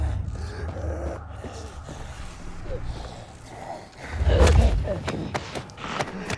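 Zombie growls and snarls from infected in the video game Dying Light 2, rough guttural bursts rising loudest near the end amid a busy game soundscape, with a voice speaking over parts of it.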